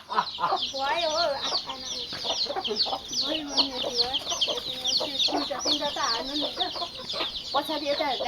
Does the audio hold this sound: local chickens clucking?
yes